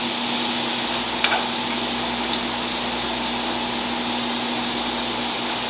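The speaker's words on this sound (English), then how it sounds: "The green onions, you don't need to cook it too long." Green onions sizzle in a hot frying pan, a steady broadband hiss of frying with a faint clink or two, close and continuous with no speech.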